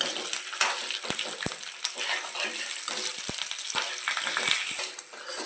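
Food sizzles steadily in a hot pan during home cooking, a continuous crackling hiss with occasional sharp clicks of a utensil against the pan, moderately loud and close with no talking.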